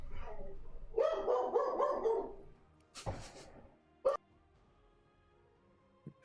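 A dog barks in a quick burst of several loud, close barks, followed after a pause by a couple of sharp single yelps and a faint final bark, heard indoors during an online game stream.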